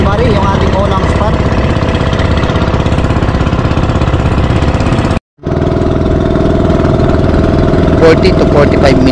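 A loud, steady boat engine drones continuously with a throbbing low rumble, briefly cutting out midway before resuming, with some rattling near the end, on a trip from Araceli, Palawan.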